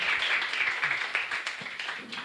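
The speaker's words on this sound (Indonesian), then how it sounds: "Boleh tepuk tangan." Audience at a stand-up comedy show clapping for a comedian, a steady wash of applause from a crowd that is close and fairly loud.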